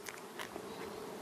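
Honeybees in a commercial hive buzz softly and continuously, with a steady hum and occasional louder passes of single bees nearby.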